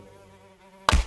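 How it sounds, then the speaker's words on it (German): A fly buzzes in a thin, steady drone indoors for most of a second before a sudden loud slap or thump cuts in at the end, with no talk. "Na warte, Fliege, die schnapp ich mir jetzt."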